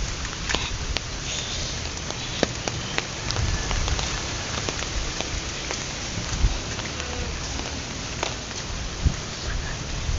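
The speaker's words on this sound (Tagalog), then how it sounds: "Pero kapag naglakas pa ang ulan" Steady rain from a shear-line storm falls continuously, a dense close patter on surfaces with occasional louder drops, no one speaking.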